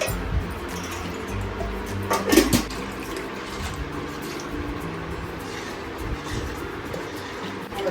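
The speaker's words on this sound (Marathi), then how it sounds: "आता आपण त्याच्यात थोडंसं पाणी घालूया" Water splashes into thick rice batter while it is mixed for traditional Kokani ghavane rice pancakes, with one louder pour-and-stir burst midway over a steady, quiet kitchen background.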